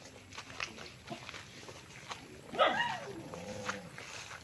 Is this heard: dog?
yes